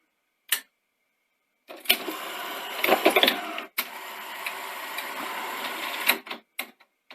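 A Sony Betamax SL-HF100ES video recorder starts its tape mechanism after power-on, giving a sharp click, then several seconds of whirring motor and mechanical clatter broken by clicks, ending in a few short clunks.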